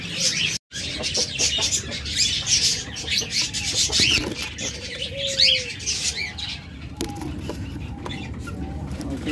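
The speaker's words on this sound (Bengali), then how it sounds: "তারপরে এখানে এক জোড়া লাভবার্ড রয়েছে" A breeding pair of lovebirds chirps in a cage, a busy stream of shrill, overlapping tweets close up, with other birds clucking and cooing faintly behind.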